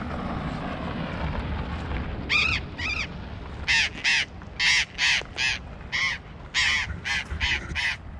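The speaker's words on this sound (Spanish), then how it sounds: "acá hay unos loros que no paran de gritar." Loud, harsh screeching calls from a flock of parrots at caves on a road trip through southern Argentina, coming in repeated close bursts over a steady rumbling background.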